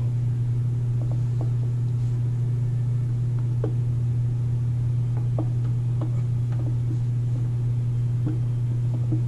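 An electric drain snake auger with a newly fitted belt spinning, giving a steady loud low motor hum throughout, with faint ticks and knocks over it and no talking.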